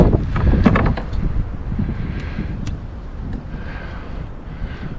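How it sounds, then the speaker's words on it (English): Strong gusty wind buffeting a microphone outdoors on the water during a canoe fishing trip, heavy low rumbling bursts that ease slightly, with faint clicks and no talking. "Boy, this wind is just fierce today."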